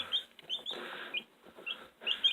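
High, thin chirps from newly hatched incubator chicks come in quick bursts with short gaps, close by, alongside soft rustling and shuffling.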